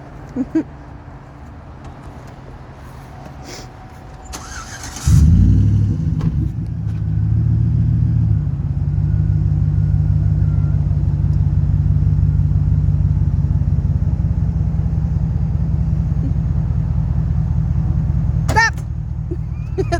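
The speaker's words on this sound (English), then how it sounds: "I'm gonna back the truck up to it" A truck engine starts with a thump and settles into a steady, loud low rumble as it idles and creeps in reverse toward a camper trailer, with brief noises over it.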